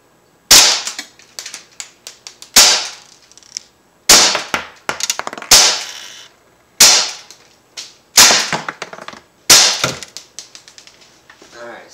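An Umarex Elite Force HK USP .177 air pistol fires a string of sharp, loud snapping shots close by, each followed by quick clattering echoes, spaced roughly a second or two apart.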